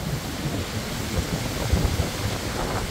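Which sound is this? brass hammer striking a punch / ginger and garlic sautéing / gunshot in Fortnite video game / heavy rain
heavy rain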